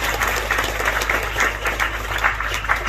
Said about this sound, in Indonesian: tepuk tangan dulu dong buat santri